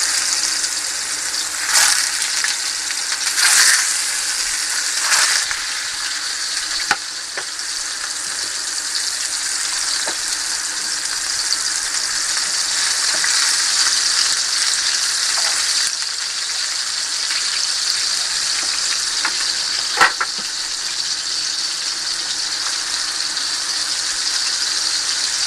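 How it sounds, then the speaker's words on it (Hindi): Raw keema kebabs fry in preheated hot oil over a medium flame, producing a loud, continuous sizzle and crackle with a few sharper pops and rattles. "तो अब ये वाला जो है मैं अभी फ्राई कर रही हूँ। ऑयल मैंने पहले से गर्म कर लिया है।"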